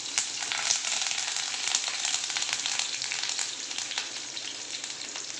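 Curry leaves crackling in hot oil for paneer bhurji, a continuous close sizzle with frequent sharp pops and spatters at a steady level.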